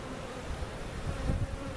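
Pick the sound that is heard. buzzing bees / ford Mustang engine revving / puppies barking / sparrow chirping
buzzing bees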